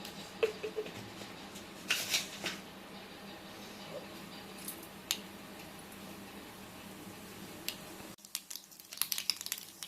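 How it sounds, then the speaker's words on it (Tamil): Soft crackling and scattered pops of mustard seeds spitting in hot oil, with a few sharper bursts, fairly quiet and close. "கடுகு நல்லா வெடிச்சிருச்சு"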